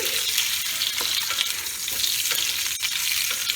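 Eggs frying in oil in a pan for egg korma, a loud continuous sizzle with brief scraping stir sounds, close up and steady throughout, with no voices.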